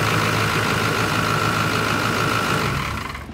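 Duramax diesel engine idling steadily in a swapped truck, a loud continuous low rumble with a fixed whine that fades slightly toward the end, no voices.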